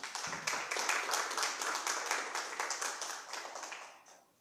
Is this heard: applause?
yes